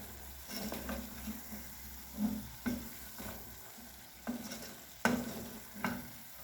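Seasoned meat filling with salt, paprika and pepper stirred in a pan for Brazilian festival croquettes: soft repeated scraping strokes over a steady low sizzle, moderately close, with no voices.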